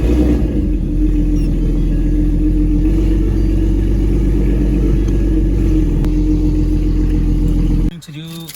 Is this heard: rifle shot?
no